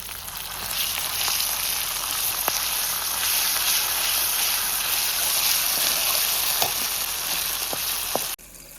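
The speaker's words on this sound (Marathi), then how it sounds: "तेल तपलं, आता कांदा टाकतो." Chopped onion frying in hot oil on a wood-fired village stove, a steady, close crackling sizzle with scattered pops and stirring scrapes, no talk over it, cutting off near the end.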